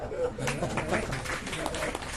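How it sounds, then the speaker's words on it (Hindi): Audience at an evening program claps briefly after being urged on, a moderate, uneven patter of hands mixed with some voices and room noise. "इनके लिए ताली हो जाओ"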